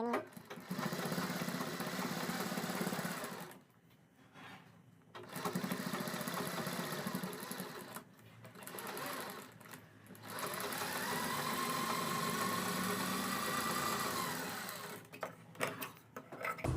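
Electric sewing machine stitching all around the neckline of a kurti, running in several long loud whirring bursts separated by brief pauses, with no talk over it.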